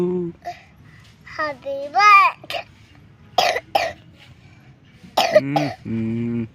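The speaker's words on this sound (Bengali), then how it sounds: "কাশি হয়েছে" A child coughs a few sharp times, close by, between bits of babbling and speech, including singing of Happy Birthday.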